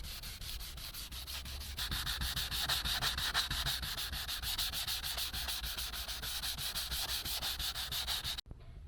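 Steady, continuous sanding of a scratched car bumper on a Citroen Xsara Picasso, a close, loud abrasive rubbing with a rapid back-and-forth rhythm that runs unbroken before stopping abruptly near the end.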